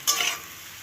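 Food frying in ghee in a pan: a soft sizzle swells briefly as it is stirred, then settles into a faint, steady hiss.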